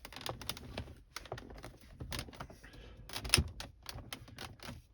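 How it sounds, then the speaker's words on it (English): Plastic trim around the head unit of a Mitsubishi Outlander PHEV is pressed into the dashboard fascia, making a close series of sharp clicks and snaps with a louder snap near the end and no talking. "Click everything in."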